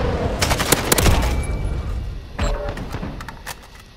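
Rapid AK-47 fire in the shooter game Call of Duty Modern Warfare, with a dense burst of loud shots early on and a second, quieter volley of gunfire that fades toward the end.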